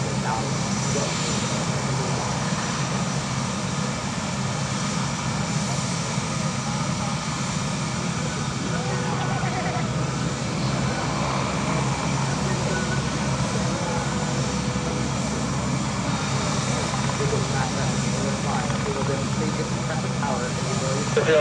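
A C-17 Globemaster III jet flies a demonstration at EAA AirVenture, its steady, broad engine roar filling the air throughout while voices talk over it.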